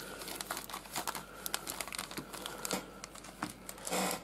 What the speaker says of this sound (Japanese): まずは前編の10パック開封していきたいと思います。